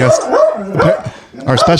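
A dog barks and yips in several close, loud bursts in an indoor setting, with voices mixed in around the barks.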